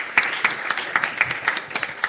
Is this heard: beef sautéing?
no